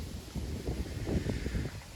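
Gusty wind buffets the microphone in low, uneven rumbles while float fishing on open water, steady and close.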